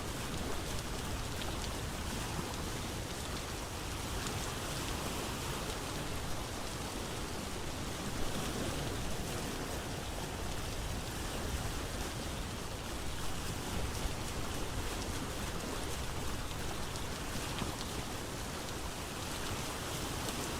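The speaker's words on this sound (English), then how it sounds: "There's all my rain and fog and storms. It's finally caught up to us" Steady rain from a storm in the video game Vintage Story, a dense, even hiss of falling drops that holds unbroken throughout at moderate volume, with no speech.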